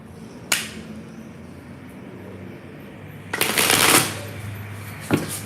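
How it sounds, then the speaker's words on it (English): A deck of tarot cards is shuffled, with a crisp riffle burst in the middle, a short flick at the start and another at the end, close and fairly quiet against a still room. "I like this little deck when I'm shuffling them."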